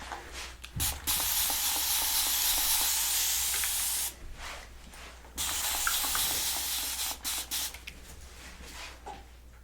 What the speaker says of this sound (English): Gonna give it a little bit of a spray with water again.